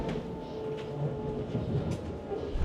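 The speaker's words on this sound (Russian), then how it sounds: "Наш поезд прибывает на станцию Сосновая Поляна." A commuter electric train pulls into Sosnovaya Polyana station, a steady rumbling rolling noise with a faint high whine and occasional clicks, heard from on board.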